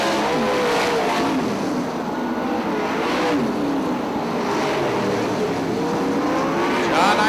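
410 sprint cars roar around Fremont Speedway in a heat race, a loud continuous engine drone with rising and falling pitch as the cars pass, and a commentator talking over it.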